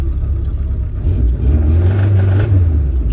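Engine of a Tofaş car being worked on in an İzmir repair shop, revving loud and close: a deep rumble that swells and climbs in pitch partway through, then holds high.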